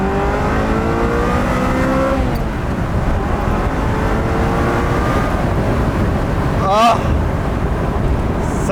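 A 1995 Ferrari F355 Spider engine revs loudly and close up, pitch climbing through gears with a brief drop and a sharp burst near the end, under a steady roar of road and wind noise.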